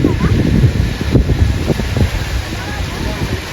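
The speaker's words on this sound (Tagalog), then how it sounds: "di pa kami nagpipicture kasi masyado pang mahangin" Steady outdoor wind roars and buffets the microphone throughout, with muffled voices and low rumbling mixed underneath.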